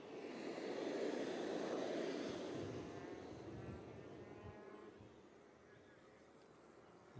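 An RC aerobatic airplane engine starts at an aerobatics competition in Al Ain, a loud whirring roar peaking early then easing off into a steadier, fainter drone, with faint voices in the background.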